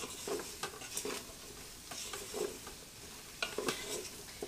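Pork ribs coated in spice rub are stirred in a pressure cooker, with a soft sizzle under intermittent utensil scrapes and light clinks against the pot. The sound is quiet and close, with no talking.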